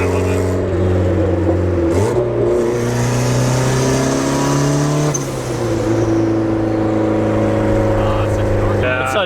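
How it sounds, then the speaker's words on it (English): A turbocharged Honda Civic revs hard through a loud aftermarket exhaust, its engine note climbing and falling across several pulls with turbo spool and the hiss of the wastegate dump and blow-off valve layered in, close and continuous. "The fender exit, the wastegate dump, and the blow-off valve all at the same time, and the turbo spool."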